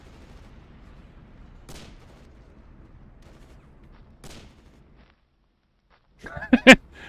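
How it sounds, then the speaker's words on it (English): Gunfire and impacts close by in the online shooter Fritz: two faint distant shots, then after a brief silence a sharp, loud cluster of nearby cracks and hits. "You don't want to hear shots and impacts right next to you."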